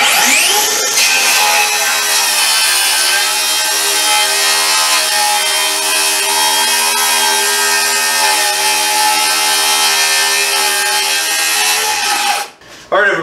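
A power drill drives screws to tighten down a homemade DIY saw guide, a steady, loud, continuous whirring hum lasting about twelve seconds before stopping abruptly, with no talking.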